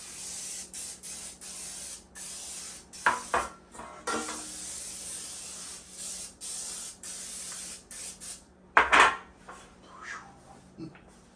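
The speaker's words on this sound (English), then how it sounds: "Non-stick cooking spray." Non-stick cooking spray hisses from a can in several short bursts during holiday dinner cooking, close and loud, separated by quiet gaps and a few kitchen clatters.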